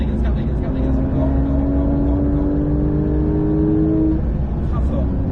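A Porsche 911 992 GT3 engine pulls hard on the Mettet track, a loud rising in-car drone climbing steadily in pitch through a gear before easing, with an instructor's voice talking over it.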